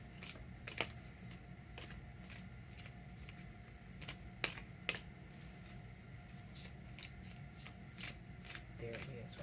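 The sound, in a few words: shuffling tarot cards before pulling one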